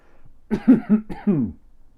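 A person coughs up close, a short cluster of three harsh, throaty bursts.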